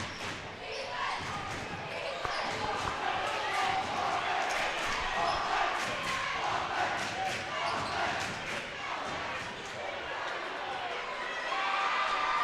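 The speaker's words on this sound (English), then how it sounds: "This Pavilion cheering section is no slouch" A Pavilion student cheering section roars and chants through a girls basketball class D1 final against Fillmore, the crowd noise filling the gym steadily, with sneakers squeaking and a commentator talking over it.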